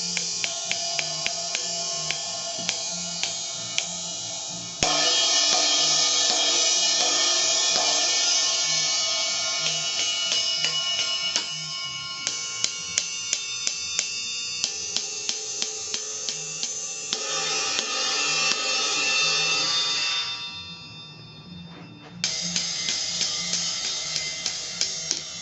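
Zildjian Gen 16 electronic cymbals struck unplugged give thin, bright metallic washes and ticks, steady stick hits with sustained shimmer and a short gap near the end, moderately quiet and close.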